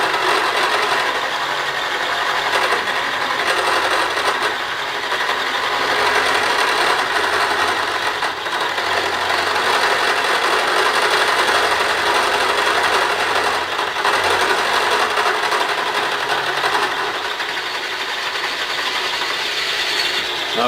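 A Bridgeport milling machine runs with its spindle dialed to 15,000, giving a loud, steady high mechanical whir with a faint ticking texture. The tone holds close and unbroken throughout, with no voices.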